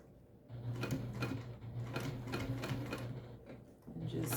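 Sewing machine back stitching over a seam on a mini backpack: a steady, close mechanical whirr with rhythmic needle ticks that runs almost continuously, pausing briefly once.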